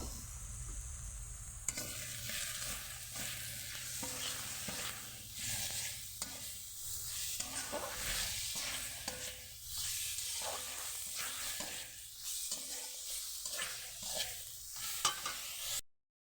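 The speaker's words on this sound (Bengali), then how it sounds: "দেওয়ার পর ভালোভাবে এটাকে আমি মিশিয়ে নেব" Chili powder and cumin powder are stirred into food in a hot pan, giving a steady close sizzle and hiss with soft scraping strokes that continue for the whole stretch.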